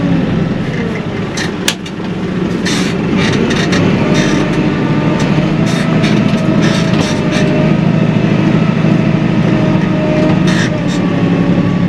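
A tractor engine drones loud and steady throughout a ride, a constant low rumble with faint clanks and rattles and no voices.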